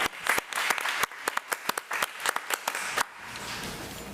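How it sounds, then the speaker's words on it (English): An audience at a committee meeting gives a short round of applause, scattered sharp individual claps at first, then fading into a quieter room. "Let's give Miss Brown another round of applause."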